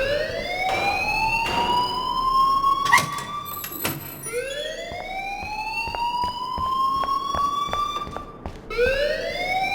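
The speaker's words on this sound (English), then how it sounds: "please turn off that alarm since that's your job" An alarm in the video game Life is Strange wails in repeated rising sweeps, each tone climbing and then holding, with sharp clicks and knocks punctuating the loud, continuous cycle.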